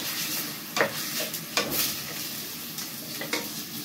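Steady frying sizzle from a pan, with a few sharp scraping clicks of a utensil stirring the meat.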